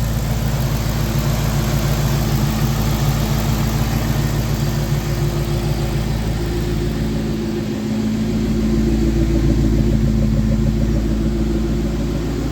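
2004 Ford Mustang Cobra engine idling steadily and close by, a continuous low rumble with a faint rhythmic pulse that barely changes over twelve seconds, no voices.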